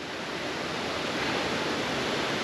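Calypso Cascades, a waterfall on the Twin Lakes trail in Wild Basin, Rocky Mountain National Park, roaring as a loud, steady broadband rush of falling water with no voices.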